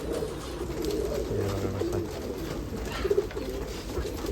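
A racing pigeon coos in a loft, low repeated throaty coos over a steady background murmur, with a brief louder flutter near the end.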